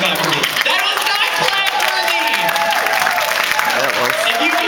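An audience at an opening ceremony claps in a sustained, moderate burst, with someone talking clearly over the applause throughout.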